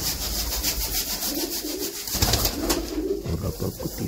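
Breeder pigeons and their chicks cooing from close by, soft repeated low coos rising and falling over a steady background hiss, with no talk.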